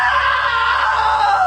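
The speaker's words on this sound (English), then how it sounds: "Now that was a great scream." A loud, sustained scream from the video game What Remains of Edith Finch holds strong and unbroken with a slight falling pitch and no other sound around it.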